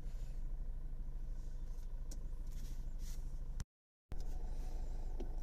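A Mercedes-Benz CLA 200d diesel runs after a leaking injector was repaired, a faint, steady low engine rumble with an even drone, broken by a brief dropout of silence.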